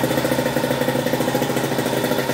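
A moped engine runs at a steady idle without throttle after being kick-started, its close, even chugging pulsing continuously throughout.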